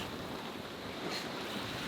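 Steady wind and crashing ocean waves roar continuously aboard a Beneteau 423 sailboat on a rough sea with waves of roughly seven to ten feet, a dense, unbroken wash with no voices.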